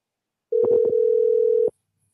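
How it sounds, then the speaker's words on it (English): A single steady telephone ringback tone sounds for about a second while a call is placed to a caller, briefly overlapped by a few short clicks or voice fragments near its start, then cuts off abruptly. "I'm gonna see if I can actually get a caller to answer the phone real quick."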